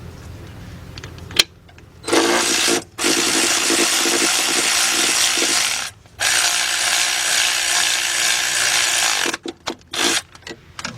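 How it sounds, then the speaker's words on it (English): A ratchet wrench with a 14mm deep 3/8-drive socket turns the starter bolts on a 2007-2017 Lexus LS460, giving close, loud bursts of rapid clicking separated by brief pauses. "Get my big bill ratchet here."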